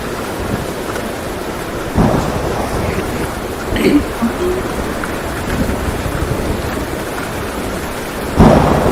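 Storm sound effect with steady rain and rolling thunder, playing loud and continuous with swells near the start and end, while voices talk over it at a gaming table.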